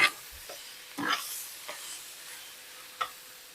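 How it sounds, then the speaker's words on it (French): Tomatoes and other ingredients get mixed in a pot, with a few scattered scrapes and knocks of a spoon against the side over a faint hiss, sparse and close. "Il faut bien mélanger."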